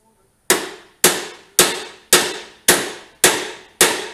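Seven sharp metallic hammer blows strike a rusty bolt during a 1972 Honda CT70 rebuild, evenly spaced about half a second apart, loud and close, each ringing briefly before the next hit, with no voices.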